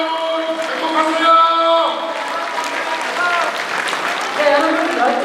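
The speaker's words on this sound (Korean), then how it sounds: "다시 한번 힘찬 응원의 박수 부탁드리겠습니다" An audience at a political party event in South Korea claps steadily for several seconds, a sustained, moderately loud patter over musical tones, with a voice briefly heard.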